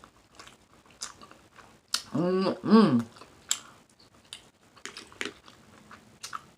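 Close chewing of a Chipotle chicken bowl topped with guacamole, a burst of wet mouth noises and smacking lasting about a second, with murmured approving hums and faint clicks around it.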